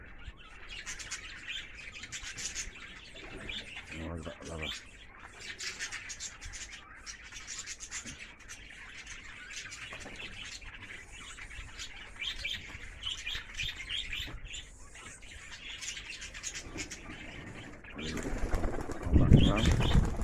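Loft pigeons, both old birds and young, flying around outdoors with chirps, coos and wing flaps scattered through the scene; a loud flurry of wing flapping comes near the end, with brief talk mixed in.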